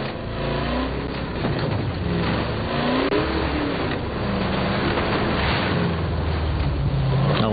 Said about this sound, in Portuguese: Obrigado a usar o carro que a gente nunca usa